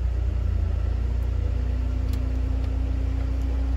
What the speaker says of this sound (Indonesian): Itu fan yang high speed.